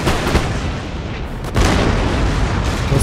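Artillery fire and explosions rumble in the video game Empire: Total War, a dense, continuous booming battle din with a heavy blast near the middle.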